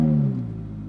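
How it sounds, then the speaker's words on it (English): A 2005 Ferrari F430 Spyder fires up with a loud, deep engine burst that quickly eases down into a lower, steady rumble, heard close and alone. "Typical, excellent F430 sound"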